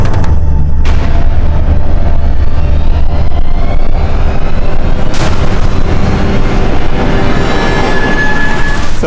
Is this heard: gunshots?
yes